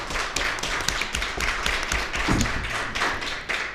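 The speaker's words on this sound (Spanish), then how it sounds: "Un aplauso para Selene" An audience at a crime-novel prize ceremony at the Mineria book fair claps, producing brisk, closely spaced hand claps in a steady, fairly loud patter that runs for a few seconds.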